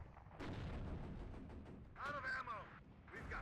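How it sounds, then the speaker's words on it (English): Anti-tank AT4 rocket launches in the Warno war game, several heavy booming blasts over a dense rumble of battle, with someone talking over parts of it. "Just one more AT4 to fire"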